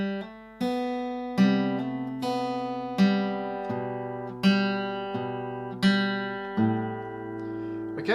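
Acoustic guitar picking a line of a song with clear, ringing chord strums that each decay, struck in a steady rhythm roughly every three-quarters of a second, played close and alone.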